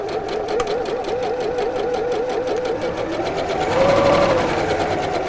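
Steady, close whirring of a sewing machine as it slowly follows the curved seam of a zipped pouch flap, running continuously with a slight pitch rise near the end.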